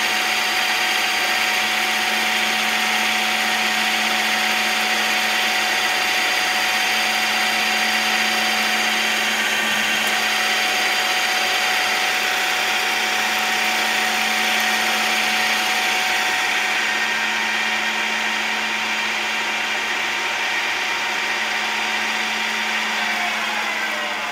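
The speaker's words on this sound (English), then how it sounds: "We're gonna hit the cycle start button here and watch this little center drill process happen." A steady, loud machine whine with a high-pitched spindle tone holds unbroken for the whole stretch as a CNC machine center-drills metal for a reproduction Fiat X1/9 grille.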